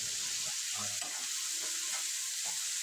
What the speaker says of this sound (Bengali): মশলাটা খুব ভালোভাবে কষে নেব